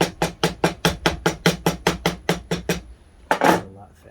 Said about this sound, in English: Well, I have a hammer, so I'm going to use it.